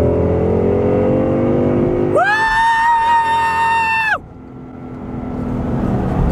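A 1964 car's engine revs while driving, its low drone climbing in pitch, then a loud sustained human whoop cuts over it for about two seconds before the engine noise settles back.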